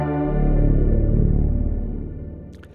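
A big, lush pad patch from a Roland V-Synth swells in with dense sustained harmonics and chorus-like shimmer, then fades out over a few seconds, playing alone with no voices.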